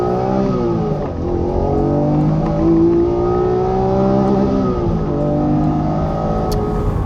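A Honda NSX-R engine revs and accelerates with a loud, steady mechanical drone, pitch climbing through the gears with brief dips at shifts, close and continuous.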